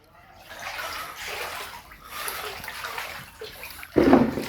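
Floodwater sloshing and splashing inside a flooded house in Panabo City, Davao del Norte, a steady close wash of moving water that surges louder near the end.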